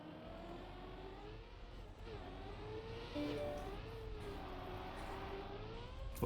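A race car in the Trackmania Cup of the Day racing game drifts through corners, with a steady engine whine rising and falling in pitch and faint tire scrubbing underneath.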